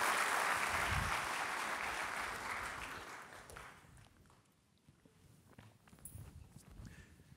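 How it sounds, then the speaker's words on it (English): A crowd applauds the developers building in downtown Long Beach, a broad wash of clapping that fades out over about four seconds, leaving quieter scattered thumps and footstep-like taps. "a big round of applause"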